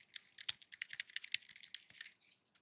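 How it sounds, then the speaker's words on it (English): Keys tapped on a ZSA Voyager keyboard fitted with silent switches, a quick, irregular run of soft, muted clicks up close. "I'm just going to hit a few keys on the silent board."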